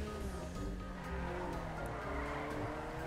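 A small car in a GTA V Online race, its engine droning steadily and fairly faint as it drives and corners, with a continuous low hum and no talk.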